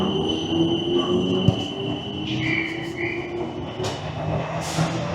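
A commuter train runs on a short hop toward Wandsworth Town in London, a steady rumble of wheels and carriage with faint squeals and rattles throughout, close and continuous.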